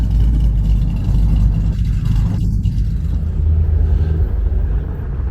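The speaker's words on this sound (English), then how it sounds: "Got another Chevelle rolling in, a 69." A 1969 Chevrolet Chevelle rolls in at an outdoor car show, its engine giving a steady low rumble close by, with a brief higher whir partway through.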